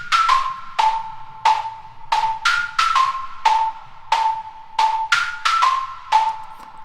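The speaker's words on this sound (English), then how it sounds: "Then I added the high pitched bell pluck things." A high-pitched bell pluck synth in FL Studio plays a quick, rhythmic melody of bright, ringing notes with sharp attacks and short decays, repeating steadily and alone.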